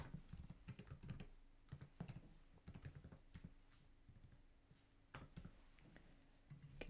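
Soft typing on a computer keyboard while entering a clinical note, quick irregular bursts of key clicks with brief pauses, close and quiet.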